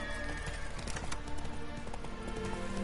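The horse Roach gallops in The Witcher 3, with rapid clip-clopping hoofbeats in a steady, driving rhythm under a dense, busy game soundscape.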